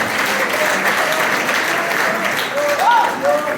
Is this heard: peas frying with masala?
no